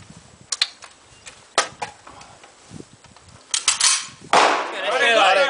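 A toy gun firing dried peas is handled and loaded with scattered clicks and clacks, then snaps off sharp cap-gun-like shots ending in a louder rattling burst, with voices heard faintly.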